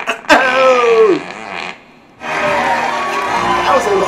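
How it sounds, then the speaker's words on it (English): A very loud, long fart sound effect blares up front, then cuts to silence before a second burst of noisy, flapping sound, with voices mixed in. "That was the loudest fart ever."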